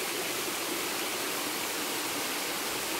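Waterfall at Morro do Paxixi in Mato Grosso do Sul, a single drop with no pool beneath, gives a steady, dense rushing roar that stays constant throughout, with no voices.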